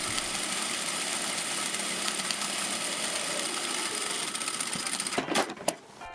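A sewing machine runs steadily, stitching quilting lines on fabric for a hair tool travel bag, its fast even whir holding for several seconds before a few louder clunks and rattles near the end.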